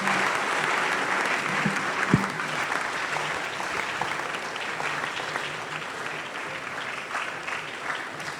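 A packed university great hall audience at an entrepreneurship campus tour claps hard and continuously, dense applause holding steady for several seconds with a faint crowd murmur beneath it.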